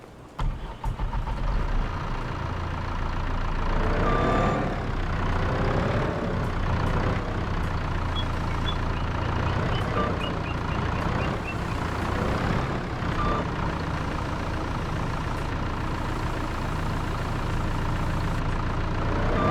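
A truck engine in Farming Simulator 25 rumbles low and steady, rising and falling in pitch as it revs, with faint reversing beeps chirping briefly over the drone in the middle stretch.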